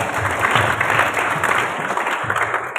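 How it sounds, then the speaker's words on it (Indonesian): Audience clapping at a youth Islamic organisation training session, a dense, steady burst of many hands that stays loud throughout with no break. "Tepuk tangan dulu buat kita semua."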